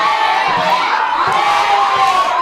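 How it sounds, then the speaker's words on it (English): A wrestling crowd at an indoor show jeers and taunts a wrestler, a dense, steady roar of many voices with scattered shouts and no pauses. "The crowd constantly bickering at him, constantly taunting him that he's a chicken."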